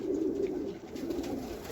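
Domestic pigeons coo softly in a low, continuous murmur, a flock kept for flying, heard close with no talk over the birds.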